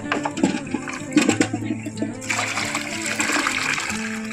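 Water and freshly caught river fish are poured out of a container, giving a close, splashing gush that swells and then runs on as a steady rushing pour, with faint voices in the background.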